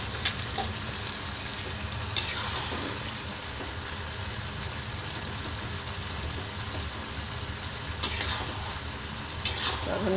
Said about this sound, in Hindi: इस स्टेज में मैं धनिया पत्ता डालूंगी और इसे मिक्स करूंगी।